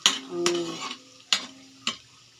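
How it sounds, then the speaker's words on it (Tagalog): Garlic frying in a pan, heard as a light sizzle broken by three sharp scraping stirs of a utensil against the pan. "Pa-brown ko muna ng bawang."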